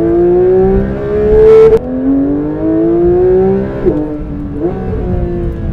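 Porsche 911 GT3 of the 992 generation with its high-revving engine, winding up hard through the gears in a loud, close, rising wail, with a sharp shift break and another climb as it pulls away, no talk.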